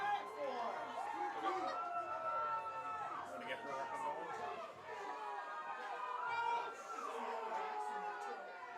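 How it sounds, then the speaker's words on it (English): A crowd roars and chatters at a Thanksgiving Day rivalry football game between Griswold/Wheeler and the Valley Panthers, a steady wash of cheering voices that swells and dips throughout, with people talking over it. "Crowd certainly getting into it on this one"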